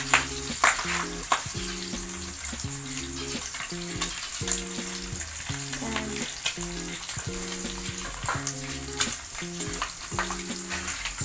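Bacon fries in a pan with a loud, steady sizzle and crackle, while regular scraping stirs repeat throughout at close range.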